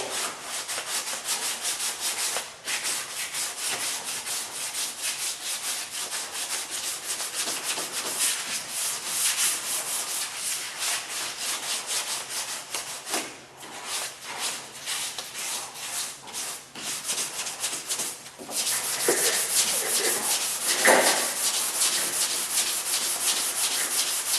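Hand sanding with 320 grit sandpaper to remove finer 220 scratches from a guide-coated panel, a steady continuous rubbing hiss with brief pauses, close and fairly loud, no voices.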